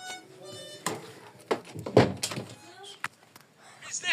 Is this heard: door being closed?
yes